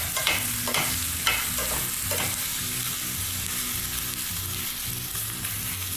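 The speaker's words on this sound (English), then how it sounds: "I wanna give these one more good stir around. Oh yeah, those onions are already softening up a little bit." Softening onions frying in a pan while being stirred: a dense, continuous close sizzle with a few sharper scrapes early on, steady and fairly loud, no voices.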